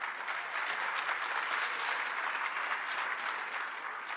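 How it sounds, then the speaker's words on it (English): Sustained audience applause at a political event in Texas, a dense, even roar of many hands clapping that holds steady throughout without a break. "he deserves a big applause for doing that"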